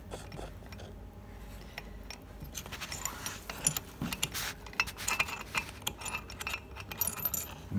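Metal gear parts from a Bajaj Discovery motorcycle gearbox clink and jangle while being handled, a close, continuous scatter of small metallic chinks and rattles.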